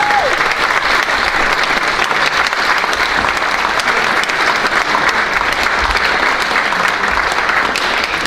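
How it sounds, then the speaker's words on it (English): Audience applause at a 2018 film screening ahead of a question-and-answer session: dense, steady clapping from a sizeable crowd fills the whole stretch at an even, loud level with no talk over it. "Can you please give them a round of applause?"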